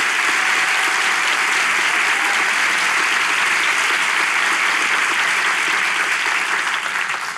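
Sustained loud applause from a studio audience at a Turkish relationship-test show, dense and steady throughout with no pauses or voices.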